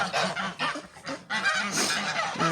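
Grey geese in a farm pen honk and squabble, a close, loud cluster of harsh overlapping calls in bursts with brief gaps between them.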